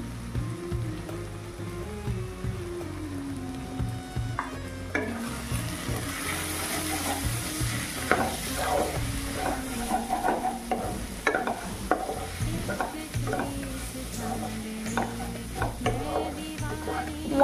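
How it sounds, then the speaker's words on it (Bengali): Minced ginger with turmeric, chilli, cumin and coriander powders sizzles steadily in a pan while a spoon stirs and scrapes through it, close up, with soft background music underneath. "নাড়তে নাড়তেই 2 মিনিট ভেজে নিয়ে দিয়ে দিচ্ছি 1/2 চামচ কুচনো আদা।"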